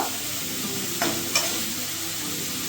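Prawns fry in a pan over a steady, close sizzle, with two quick stirring scrapes of a spatula a moment apart; no voices.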